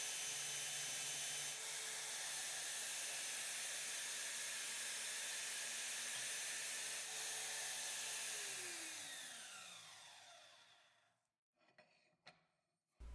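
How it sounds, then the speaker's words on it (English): A bandsaw cuts steel plate for a locomotive boiler shell, a loud steady hissing whine that holds for about ten seconds, then drops in pitch as the blade spins down, with a few clunks after. "Over to the bandsaw then to cut this in half and get the 2 plates that I need."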